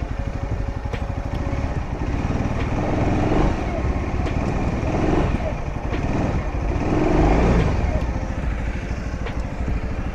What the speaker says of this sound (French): la roue arrière gauche va tourner dans le vide